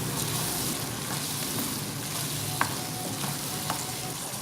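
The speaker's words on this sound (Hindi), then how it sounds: "ये सब चीज़ें ऐड करके इसको एक दफ़ा मिक्स कर लें।" Fish karahi sizzling in a pan with turmeric, cumin and salt, a steady, soft frying hiss heard up close with a couple of faint clicks from stirring.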